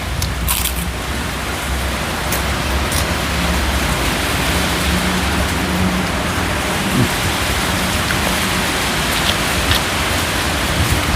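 Steady heavy rain falls during the rainy season, a dense unbroken hiss of drops on surfaces that stays loud and constant throughout, with no voices.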